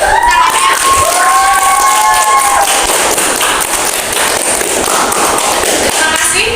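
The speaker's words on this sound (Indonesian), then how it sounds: "Boleh tepuk tangannya?" Large crowd of supporters at a presidential election debate applauding and cheering loudly and continuously, dense clapping with shouts and whistles throughout.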